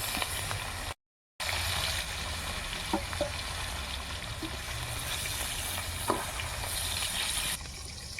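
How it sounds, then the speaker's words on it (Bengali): Rohu fish pieces frying in hot oil give a steady, close hiss with a few faint pops and crackles, fairly quiet, interrupted by one brief dropout. "এই তেলেই বাকি মাছগুলো দিয়ে দেব"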